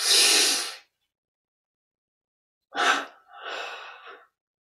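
Breathing during a guided meditation relaxation exercise: one strong, close breath at the start, a pause of silence, then two more audible breaths in quick succession, with no talking.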